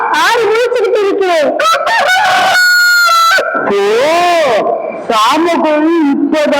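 In a Tamil-language school skit performed by boys of classes 6 to 8, a voice imitates a rooster crowing with a loud, drawn-out call amid animated, close-up talking from the cast.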